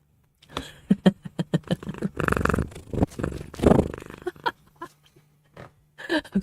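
Dolly the cat purrs close up, giving a loud, rhythmic rumbling in pulsing bursts with brief pauses between.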